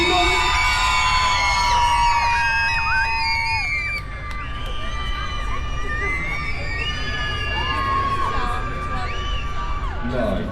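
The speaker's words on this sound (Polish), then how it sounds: "Wszystkie panie piszczą!" Women in the audience at an extreme stunt show at Energylandia amusement park squeal loudly together, a sustained dense crowd of high-pitched screams and whoops that wavers and swells throughout, close and loud, with voices shouting among them.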